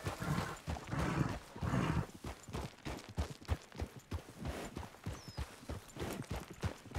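A horse in the online western game RedM trots with steady, rhythmic hoof clip-clops, close and fairly quiet, keeping a brisk even pace throughout.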